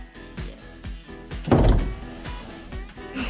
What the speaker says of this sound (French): fermer les portes et on va y aller